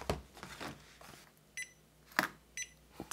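A battery management system booting up gives several short, high electronic beeps spaced irregularly, with faint clicks and handling sounds in a quiet room between them.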